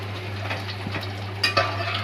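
Chopped garlic cloves sautéed with chillies in a pan for dal khichdi, a low steady sizzle with a few light scrapes and knocks of a stirring spoon, close and fairly quiet.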